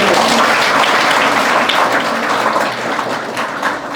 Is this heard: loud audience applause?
yes